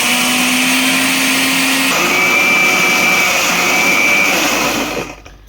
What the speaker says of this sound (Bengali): এখন সবগুলোকে আমি ব্লেন্ডার করে নেব।